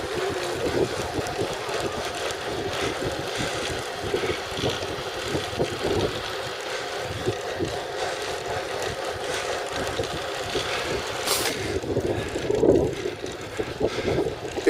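Steady buffeting wind noise across the microphone while riding a bicycle on a road with the wind behind, a continuous low rumble with small gusts and a brief swell near the end.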